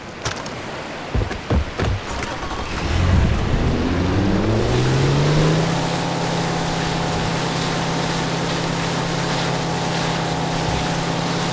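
In the video game Far Cry 3, a few knocks, then a twin-engine motorboat revs up with a rising whine and settles into a steady loud drone over rushing water.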